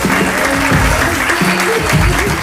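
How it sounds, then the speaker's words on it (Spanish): Audience at a cultural ambassadors election ceremony in Villa Ángela breaks into sustained, loud applause, with a voice carrying over the clapping throughout. "Fuerte el aplauso para Abril Valdés."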